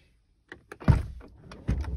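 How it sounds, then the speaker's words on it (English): A Tesla Model X Ludicrous Performance falcon wing door opens with a few clicks, then a motorized whir and thud that swells again toward the end, heard up close. "these Falcon doors are very, very clever, because if there's a car parked here and it's got less room, it actually just opens differently"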